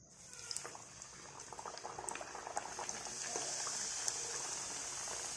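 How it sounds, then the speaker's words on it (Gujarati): Puri frying in hot oil for a Holi festival recipe, a steady bubbling sizzle that grows denser and louder, with small crackles and pops near the pan and no talk. "ફ્રેન્ડ્સ પૂરીને આપણે તળી લેશું."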